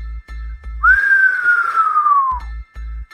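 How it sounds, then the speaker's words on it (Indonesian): One long, high-pitched shrill whistle that slowly slides downward in pitch, loud and clear, with low thumping beats before and after. "muncul lagi suara siulan panjang bernada tinggi melengking"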